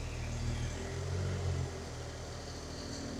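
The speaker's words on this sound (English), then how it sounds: "Off goes the little Smart." A small Smart car pulls away outdoors, its engine a steady low rumble that swells briefly and then fades to a flat drone as it leaves, with no talking.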